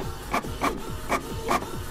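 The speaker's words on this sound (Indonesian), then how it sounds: "dia segera mencetak sesuatu pada sebuah printer mini" A mini printer prints in four evenly spaced mechanical bursts, each a short whirring clack, close and fairly quiet with no voices.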